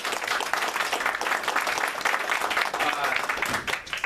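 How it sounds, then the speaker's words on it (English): A crowd at a storytelling and spoken-word performance applauds itself, producing loud, dense, continuous clapping with cheering mixed in throughout. "So give yourselves a round of applause."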